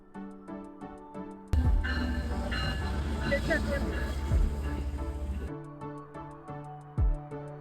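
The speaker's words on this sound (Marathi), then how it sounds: "आणि ट्रेन आली आहे बॉस्टनसाठीची" A local train bound for Boston rolls into the station with a loud, sustained rumble and rattle of carriages, rising abruptly and then cutting off, with people talking before and after.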